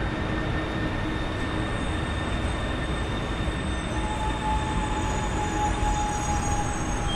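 A metro train rumbles steadily through an underground station in Copenhagen, Denmark, with a continuous roar and faint high metallic whines; no voices are heard.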